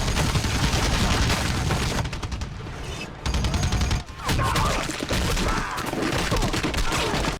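A cannon in a video game fires over and over in a loud, dense barrage of booms and blasts, nearly continuous with a couple of short breaks.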